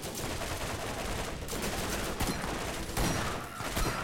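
Rapid, dense gunfire from the shooter game Borderlands crackles continuously as a volley of shots, with a few stronger bursts near the end and almost no talking.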